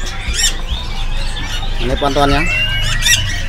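Caged songbirds at the Pramuka bird market in Jakarta, including murai batu, chirp and trill in bright bursts over a busy market murmur, while someone speaks close by.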